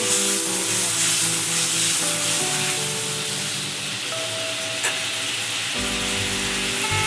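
Fried pointed gourd (potol) pieces going into a pan with milk and water for a vegetarian potol pasinda, making a continuous close sizzle and bubbling, with tonal kitchen hum running underneath.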